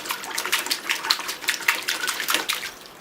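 A birch bonsai's roots are swished around in a tub of water to wash off soil, giving close, continuous sloshing and splashing in irregular surges.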